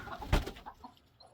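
Chickens clucking and pecking while eating softened pumpkins, a few short close clucks and scratchy movements with a sharp burst early on, fading to faint scattered calls.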